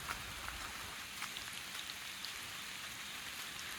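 Rain falls on a hike through the St. Vincent Ponds and Monastery Wetlands in Latrobe, Pennsylvania, a soft steady patter with scattered distinct drops tapping nearby surfaces, faint and unbroken with no voices.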